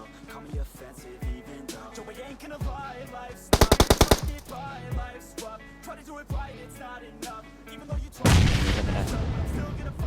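Gunfire in the PUBG battle royale game on the Sanhok jungle map: a loud rapid burst of automatic shots, scattered single shots and a heavy blast near the end, with no talk.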